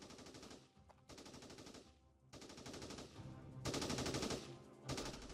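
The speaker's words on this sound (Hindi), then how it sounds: "ओके, तो यहाँ पे जो फायरिंग है वो स्टार्ट हो चुकी है।" Rapid automatic gunfire from a mobile shooting video game in a 3D Pakistan Army game, bursts of machine-gun fire rattling in clusters with brief pauses, growing denser and louder toward the end.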